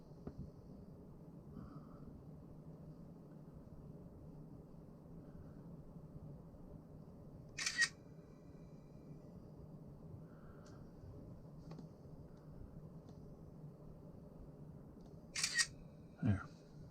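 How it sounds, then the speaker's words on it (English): Two camera shutter clicks sound several seconds apart in a quiet space while wiring is installed on a 2017 Jayco caravan. Each click is crisp and close, set against a faint, low hum. "I will take a couple of pictures"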